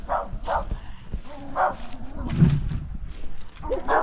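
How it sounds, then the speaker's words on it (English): A small, unhappy dog barks repeatedly outdoors at a rural West Virginia cemetery, with sharp close yaps and whimpers in an uneven rhythm and some background voice. "the little dog's not happy, are they?"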